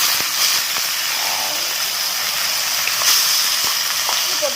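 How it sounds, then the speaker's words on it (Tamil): Onions hit hot oil in a tiny miniature pot for chicken dum biryani, giving an even, close hiss of steady sizzling with a few faint ticks, and no talking. "நான் வெங்காயம் போட்டுக்கிறேன்."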